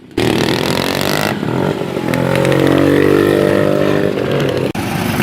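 A customized Vespa scooter engine runs steadily and loud up close, a continuous buzzing drone with a brief dip near the end.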